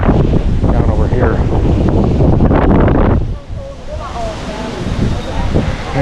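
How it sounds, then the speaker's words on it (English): Strong wind blows on a beach in Phuket, Thailand, with loud rumbling buffeting against the microphone and surf in the background. The gusts ease after a few seconds, and a person speaks over the wind. "The wind is really something today."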